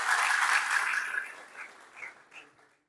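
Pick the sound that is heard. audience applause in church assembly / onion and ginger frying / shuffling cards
audience applause in church assembly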